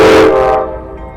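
A northbound CSX freight train slowing down in Waycross, Georgia, sounds a loud, close horn blast that quickly fades into a low rumble.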